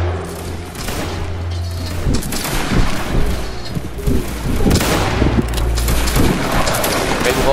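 Musket volleys crack out in a video game line-infantry battle, rolling fusillades and booming thuds repeating loudly over several seconds, with players talking over the gunfire.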